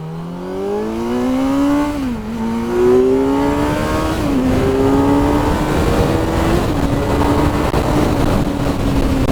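A 2024 Kawasaki Z900 motorcycle accelerates hard on a dual carriageway, its engine rising through the revs in a loud climbing whine with brief dips at two gear changes.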